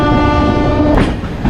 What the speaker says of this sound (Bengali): আমার পাশ দিয়ে যে ট্রেনটা যাচ্ছে সেটা হচ্ছে রাঁচি আনন্দ বিহার টার্মিনাল।